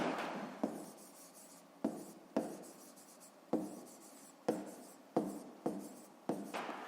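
Numbers written by hand with a pen or pencil during a fifth-grade maths exercise, a series of short scratchy strokes in quick bursts, close and fairly quiet.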